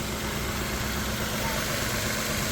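A 2008 Nissan Pathfinder LE V6 engine idles steadily at close range, a constant broadband hum and rumble with no change in pitch throughout.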